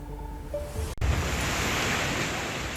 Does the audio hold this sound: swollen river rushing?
yes